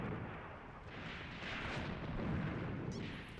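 Tank battle in the Eastern Front game Graviteam Tactics Mius Front: a dense, continuous roar of distant gunfire and rumbling explosions, steady and loud throughout with no talk.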